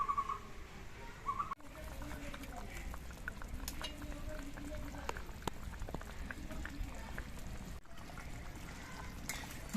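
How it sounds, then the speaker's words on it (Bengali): Boal fish curry boils in a pot, a steady dense bubbling and popping that continues evenly throughout at moderate volume, close by. "মাছগুলো দিয়ে আবার আমি মিনিট পাঁচে ফুটিয়ে নেবো"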